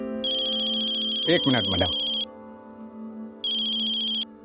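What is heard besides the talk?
mobile phone ringtone ringing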